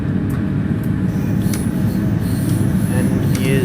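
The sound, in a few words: flange squeal of DB BR612 train on curves, Train Sim World 2 video game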